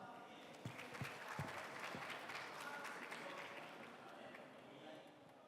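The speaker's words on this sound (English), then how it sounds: "So let us welcome Hecate with a round of applause." An audience at a Southeast Asia startup pitch competition demo day applauds to welcome a startup founder to the stage, with sustained, fairly faint clapping and a few sharper claps early on that slowly taper off.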